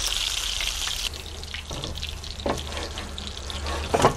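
Fish patties sizzle in a pan just pulled slightly off the heat, a steady crackling fry with brief pops and clinks, no talking.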